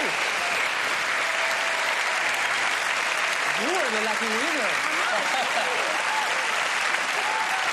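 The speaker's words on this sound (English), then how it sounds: "Please give her a big round of applause." A studio audience at a magic show breaks into loud, steady applause for a chosen volunteer, continuous crowd clapping throughout while someone speaks over it mid-way.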